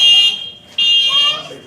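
A fire alarm, set off by accident, sounds a steady high electronic tone that cuts off briefly and then resumes, loud and close, with people talking over it.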